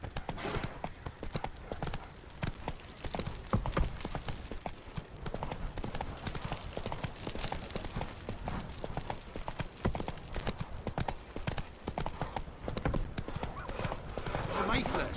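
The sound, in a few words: horse galloping in The Witcher 3 video game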